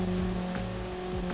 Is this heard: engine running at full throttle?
yes